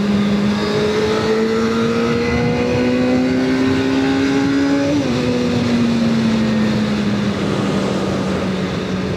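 A 1999 Suzuki SRAD 600 motorcycle accelerating hard in third gear, the engine note climbing loud and close, then a brief dip at a shift before pulling steadily onward.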